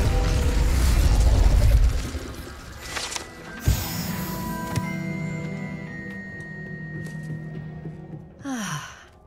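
A telescope mechanism handled in a video game gives close creaks, ratcheting clicks and gear-like scrapes, with a sigh-like breath early on and a short mechanical whir at the end.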